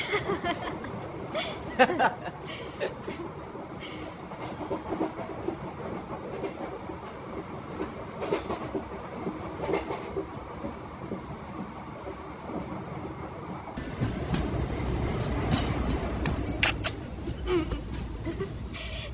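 A train arriving at a station rumbles and clatters steadily along the tracks under a film scene, growing louder toward the end, while people talk and laugh over it.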